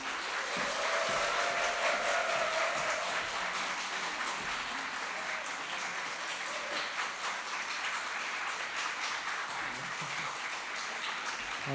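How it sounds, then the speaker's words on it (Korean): A church congregation applauds to welcome a visiting professor, a broad sustained wash of many hands clapping that stays loud and even for about twelve seconds, with no speech over it. "담아서 박수로 한번 모셨으면 좋겠습니다."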